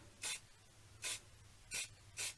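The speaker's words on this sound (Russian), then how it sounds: "Берем белую грунтовочку, ребята, и аккуратными движениями наносим тоненький" Four short, loud hissing bursts of a spray can applying white primer to a feeder fishing rod quivertip, evenly spaced about every half second to second, with a faint low hum in the background.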